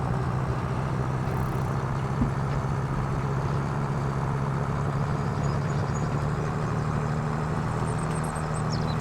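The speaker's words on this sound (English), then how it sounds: "this is my personal tractor, which, you know, not a bad pickup in the game" A tractor engine running steadily in Farming Simulator 25, a constant low drone with a mid-range rumble, even in level throughout, with no talk over it.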